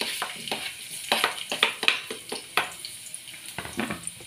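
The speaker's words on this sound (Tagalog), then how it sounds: "pag mainit-init na po, lagyan na po natin ang ating bawang" Garlic sizzling and frying in hot cooking oil in a pan, with a steady crackle broken by repeated stirring and utensil scrapes, close and moderately loud, no talk.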